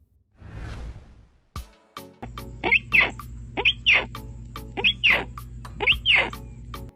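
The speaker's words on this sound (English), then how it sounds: "The rufous-headed hornbill, Rhabdotorinus waldini, also known as Walden's hornbill, is a critically endangered bird species native to the Philippines" Rufous-headed hornbill, also called Walden's hornbill, a critically endangered Philippine species, gives a run of loud, harsh paired calls in steady rhythm, preceded by a brief whoosh, over a constant low background hum.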